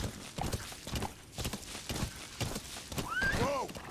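A horse in Metal Gear Solid 5 gives a clear whinny near the end after several hoof steps, the hooves sounding at close range under a low game background.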